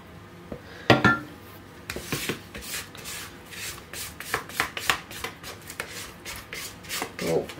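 A spatula scrapes apple cake batter into a pan in a run of short, rhythmic scraping and tapping strokes against the bowl and pan, close and fairly clear with no talk.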